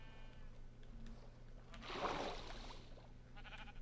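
Sheep bleat in a modded Minecraft game, a burst of in-game sounds swelling around the middle over a steady background hum, with faint speech nearby.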